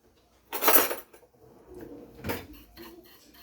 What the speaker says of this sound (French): à l'aide d'une cuillère, je vais mélanger le tout